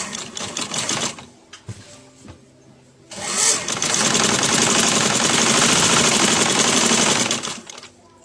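A sewing machine stitches a collar lining seam in two bursts: a short run of fast, loud, close mechanical rattling, then a pause and a longer steady stretch of rapid stitching that stops near the end.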